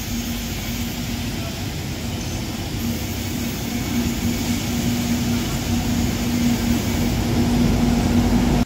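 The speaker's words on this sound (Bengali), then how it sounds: "ছুটে আসছে আমাদের ট্রেন" A train approaches Bankura railway station, its steady low rumble and broad roar building gradually louder over several seconds, with a sustained hum and distant-to-near rolling noise.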